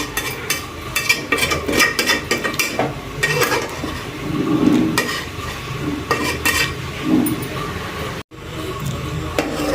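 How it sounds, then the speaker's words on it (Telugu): A spoon scrapes and stirs through thickening milk and its skimmed cream in a pot while rabdi cooks, a steady close scraping over a low bubbling simmer. "దీన్ని మనము మెల్లిమెల్లిగా ఒక స్పూన్తో మనము ఇందులోనే పడగొట్టేసేయాలి"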